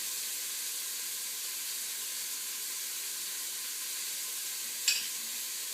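Vegetables for squash soup sweat in a pot with salt, giving a soft, steady sizzling hiss that continues without pause, with one faint clink of the spoon near the end and no talking.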